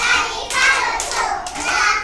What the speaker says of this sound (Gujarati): તાળી પાડો છોકરા